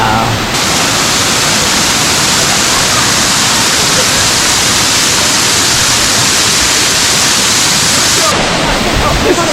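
Pailón del Diablo waterfall in Baños, Ecuador, thunders as a loud, close, constant roar of crashing water that fills the whole stretch without letting up.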